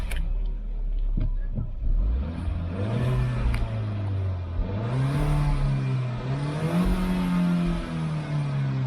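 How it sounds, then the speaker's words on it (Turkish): A rebuilt 1.2 TSI turbo car engine starts and revs in several rising and falling surges, loud and close, with a rough idle between pulls. "Şöyle çalıştırayım motor sesini de dinlettireyim sizlere."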